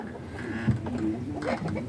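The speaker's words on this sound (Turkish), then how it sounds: "şimdi kümesteyiz tavuklar ağır ağır geliyorlar" Hens in a village coop cluck softly and intermittently nearby, a few low murmuring calls over a quiet background.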